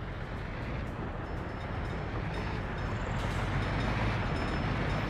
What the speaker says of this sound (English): the train is trying to push steel to so many different places that need it